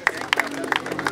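Crowd cheering and clapping after a round of a rap battle, sharp scattered claps with shouts and voices rising over a lively, close audience.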